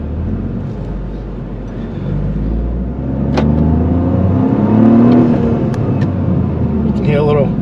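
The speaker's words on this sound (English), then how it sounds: "nice little growl from the engine for that inline 3" A Toyota GR Corolla with an inline-three engine of about 300 horsepower growls steadily while driving, rising a little in loudness midway, with someone talking over it.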